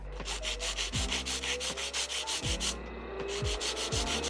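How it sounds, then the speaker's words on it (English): A hand file reshapes long polygel nails with steady, rapid back-and-forth rasping strokes, close and continuous, and occasional faint knocks sit beneath the scraping. "then we're going to go in with our hand file and reshape these nails"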